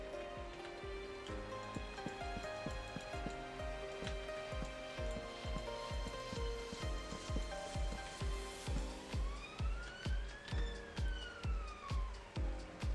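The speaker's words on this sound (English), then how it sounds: "It's an ambulance." An ambulance siren wails steadily through a rhythmic pulsing background, rising and falling in pitch near the end as it seems to pass, moderately loud.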